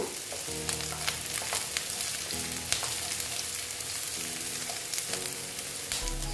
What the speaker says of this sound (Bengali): এখন পেঁয়াজটা ভেজে নিচ্ছি তার সঙ্গে আমি দিয়ে দিচ্ছি গাজরগুলো